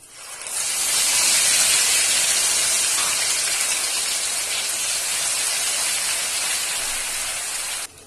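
Cumin seeds and two bay leaves sizzling in ghee left over from frying potatoes, a steady loud hiss that swells in quickly and holds evenly for several seconds before cutting off.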